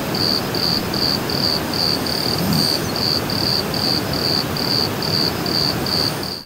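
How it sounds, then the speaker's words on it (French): A single cricket chirps close by a tent in a cornfield in a steady, regular pulse of shrill trills, over a constant hiss of background night ambience. "il y a un grillon très entêtant qui était situé tout près de la tente"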